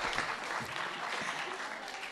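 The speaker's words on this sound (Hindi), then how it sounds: "आप तालियां बजा सकते हैं।" An audience at a Bait Bazi verse-recitation quarter-final bursts into steady, dense clapping that fills the whole moment, heard from within the hall with no voices over it.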